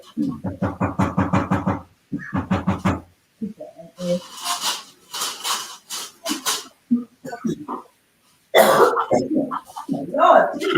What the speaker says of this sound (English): don't cough over my plate.